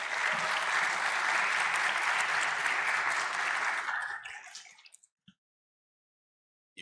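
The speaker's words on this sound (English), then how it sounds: "Please join me in welcoming Raed Ghani to the stage with a round of applause." Audience applause greeting a speaker at a DataPOWWOW event, a full, steady round of clapping for about four seconds that thins to a few scattered claps and then falls silent.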